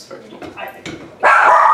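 A pet dog makes a few short barks and yips close to the microphone indoors while a person speaks, followed by a louder burst of noise at the end.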